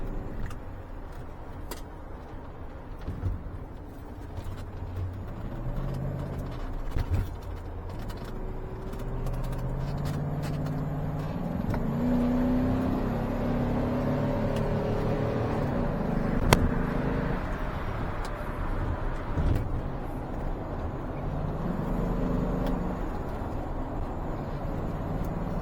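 A 1988 Mercedes-Benz 560SL cruising on a highway, heard as a steady low engine and road drone from inside the car with a gradual rise in pitch and faint ticking.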